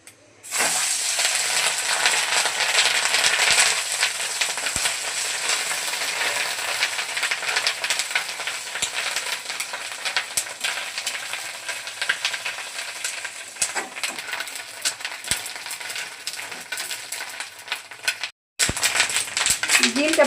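Fish roe coated in salt and turmeric fries in hot oil with dried chillies in a wok. A loud, continuous close sizzle runs throughout, broken by occasional stirring clinks and one brief pause.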